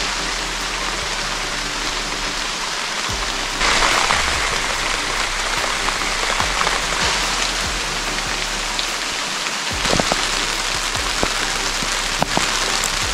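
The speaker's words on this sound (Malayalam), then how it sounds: "മഴയുടെ ശക്തി കൂടി കേട്ടോ." Heavy rain pours steadily at a trek point in Dzukou Valley, Nagaland, a dense continuous hiss of drops on surfaces that swells louder partway through, with no voices.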